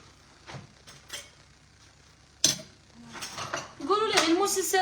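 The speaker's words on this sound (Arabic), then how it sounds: "المواعين جبدناهم." Dishes and cutlery clinking in a home kitchen: scattered sharp clinks and taps of metal and crockery, building into a busier rattle near the end, with soft voices in the background.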